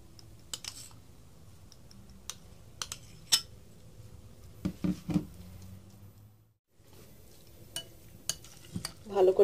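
Canned tuna is mixed with mayonnaise for a Bangladeshi tuna sandwich, heard as scattered soft clicks and taps of a utensil against a bowl over a quiet background, with a short lull partway through.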